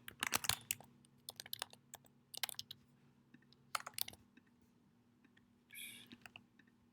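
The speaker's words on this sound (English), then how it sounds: "John Doe will be able to click Pay Now, input his credit card information," Quiet keyboard typing as credit card details are entered into an online payment form, with irregular bursts of soft key clicks separated by pauses and a faint electrical hum beneath.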